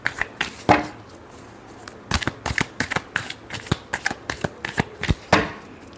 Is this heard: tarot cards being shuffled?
yes